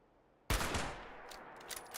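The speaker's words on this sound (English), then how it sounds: "I make so much noise when I shoot" A single loud gunshot fired in the game Fallout 76 cracks out sharply and close, then trails off into a fading echo with faint after-noises.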